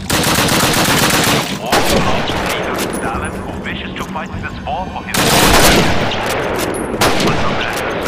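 German gun firing in the Call of Duty World War II game, with dense gunfire bursts running almost the whole time and a brief lull near the middle, loud and close over a busy battle backdrop with speech.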